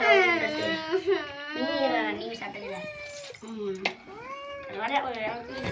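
A cat meows in drawn-out, wavering cries again and again during a fish-eating meal at home, its calls rising and falling close by with some talk in the background.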